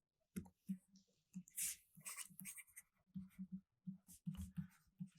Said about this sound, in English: let me write down here